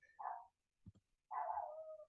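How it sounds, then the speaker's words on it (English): Dogs bark outdoors in short excited bursts, stirred up by a squirrel; two clear barks with a brief gap between them, heard from a distance with no talk over them. "You guys can hear my dogs back barking outside."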